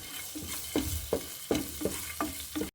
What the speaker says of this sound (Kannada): ಸ್ವಲ್ಪ ಹೊತ್ತು ಫ್ರೈ ಮಾಡಬೇಕು